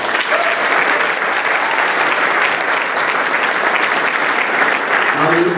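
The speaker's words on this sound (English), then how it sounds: "Let's give them all a round of applause." A large crowd applauds graduation award nominees at a non-commissioned officer academy ceremony, with sustained, even clapping that stays loud and unbroken throughout.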